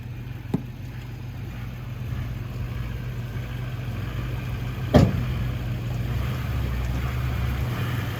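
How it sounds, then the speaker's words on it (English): A Chevy truck engine idles steadily in a low, continuous rumble while stuck, close and fairly loud, with one brief sharp knock partway through and no talking. "Let it idle for a second."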